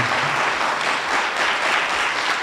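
Audience applause in a school band concert hall, a dense steady wash of many hands clapping at once, continuous and fairly loud with no voices standing out.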